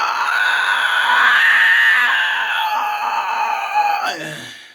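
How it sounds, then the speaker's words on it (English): Sustained vocal scream pushed from the diaphragm, one long loud close-up harsh shriek lasting several seconds with a wavering pitch, then breaking off and dropping away at the end. "I had found a scream technique that worked for me"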